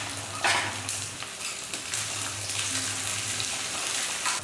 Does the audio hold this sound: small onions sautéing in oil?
yes